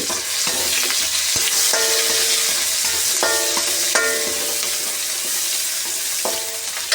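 Onions, garlic and chilli sauté in a pan with a constant loud hiss of hot oil, while a spatula clinks and scrapes against the metal now and then.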